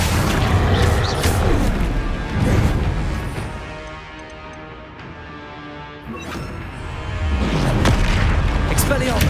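Accio summoning spell in Hogwarts Legacy, heavy booming crashes at the start and end with a quieter, ringing tail in between, loud and close.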